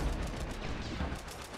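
A quick burst of gunfire in The Last of Us, a few muffled shots that are fairly faint against a low rumbling background.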